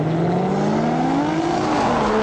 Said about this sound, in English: And those exhaust valves still sound just as good.